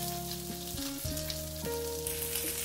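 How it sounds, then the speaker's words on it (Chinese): Meat pan-frying in oil, its thick side turned down to sear, gives a steady close sizzle that runs throughout, with sustained musical tones playing over it. "比较厚的侧面也煎一下"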